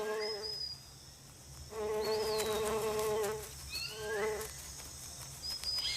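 Bees and other insects buzzing around flowering trees in the Amazon rainforest, a soft continuous drone with rising and falling hums, accompanied by faint bird chirps in the background.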